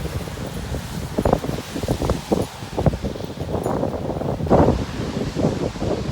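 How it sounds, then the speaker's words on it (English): Wind gusting outdoors on a city street near government buildings, a steady broadband rush with buffeting bursts against the microphone throughout. "This wind is sure fabulous."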